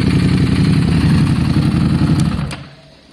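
Steady low rumble of an idling Harley-Davidson motorcycle engine, running close and loud for a couple of seconds before cutting off and fading into quiet, with a couple of faint clicks at the end.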